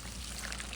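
Water poured onto kiln-fired brick walls, a steady close hissing, trickling wash that continues evenly and alone without pause.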